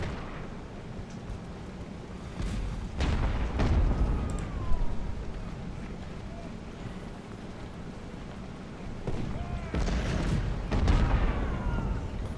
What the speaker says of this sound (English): Not a single one of those cannons hit Perrin